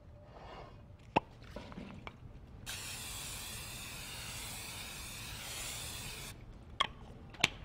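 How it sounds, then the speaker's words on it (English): Cooking spray hisses steadily into a casserole dish for about four seconds, close and clear, framed by a few small clicks and clinks of handling before and after. "And I want to spray it with cooking spray."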